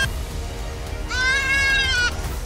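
A goat under attack by a giant Komodo dragon gives one strained, wavering bleat lasting about a second, clear above a steady outdoor background rumble.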